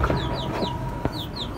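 Small chicks give a quick series of short, high, downward chirps, close and fairly soft, repeating about every fraction of a second over faint background noise.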